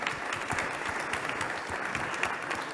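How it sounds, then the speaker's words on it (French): An audience at a French purchasing awards ceremony applauding, a dense and steady round of clapping from many hands throughout, fairly close with no voices over it. "Bravo, on peut les applaudir."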